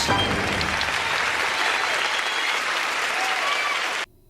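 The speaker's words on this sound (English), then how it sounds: "Everyone give a round of applause for Into the Woods!" A crowd gives a loud, dense round of applause for a performance of Into the Woods, steady clapping that cuts off abruptly at the end.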